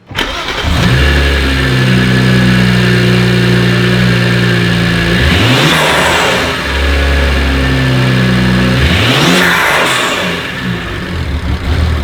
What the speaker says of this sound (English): Why is it misfiring every time